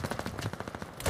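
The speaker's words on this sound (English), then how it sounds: "Rattle of gunfire across Berlin." Rapid, rattling automatic gunfire from a competitive Call of Duty esports match on the Berlin map, a fast even string of shots at moderate, slightly distant loudness.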